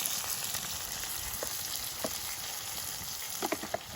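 Onion, tomato and dried red chili sizzling in a pan in a home kitchen: a continuous close frying crackle with occasional sharper pops and light stirring, no voices.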